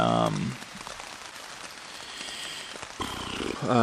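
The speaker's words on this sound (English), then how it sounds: "now it's picked up raining" Rain picking up on a tent by a trail at Brookville Lake, a steady patter of drops filling the quiet stretch between brief bits of a voice at the start and end.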